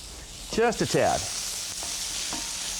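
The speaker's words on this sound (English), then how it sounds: "right into the olive oil with our artichokes and shallots" Artichokes and shallots sauté in hot olive oil with a steady, close sizzle and the scrape of stirring; a voice speaks briefly over the frying near the start.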